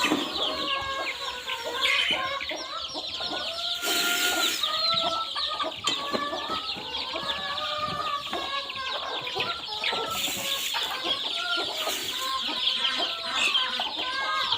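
Free-range backyard chickens, including hens with many hatched chicks, cluck and chatter continuously at close range, overlapping calls filling the scene.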